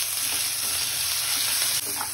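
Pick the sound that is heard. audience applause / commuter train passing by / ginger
ginger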